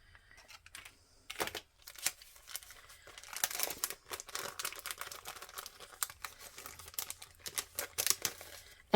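Stickers rustle in a glassine bag with a run of crisp crinkles and crackles, close and fairly quiet, irregular bursts of handling noise with no talking.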